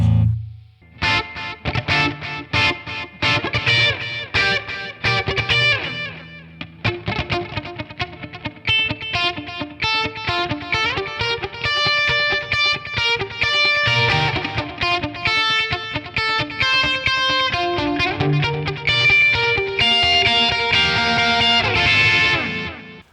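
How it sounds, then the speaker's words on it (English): Electric guitar drenched in effects plays busy, shimmering riffs and chords with distortion and chorus, loud and continuous with no talking. "let's throw some effects on it."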